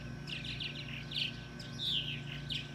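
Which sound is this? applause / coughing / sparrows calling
sparrows calling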